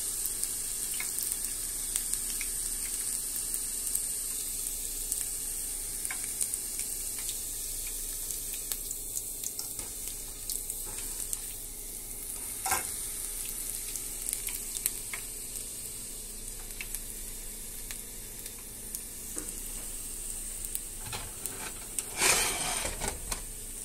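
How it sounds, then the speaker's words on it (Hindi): Green chillies frying in oil, a soft steady sizzle and hiss with scattered utensil taps and scrapes, fairly quiet and continuous with no one talking. "सबसे पहले हमने हरी मिर्च ले ली है, हमने फ्राई करने के लिए रख दी है।"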